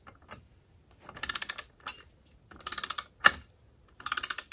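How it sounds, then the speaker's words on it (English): A torque wrench tightening a propeller nut on a Mercruiser outdrive lower unit gives several bursts of sharp, close ratcheting clicks separated by short pauses. "the torque wrench itself will make a clicking sound"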